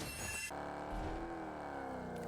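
A Tofaş Toros driving in PUBG Mobile gives a steady, moderately loud engine hum with a rising whine and a brief louder burst at the start, with no talk.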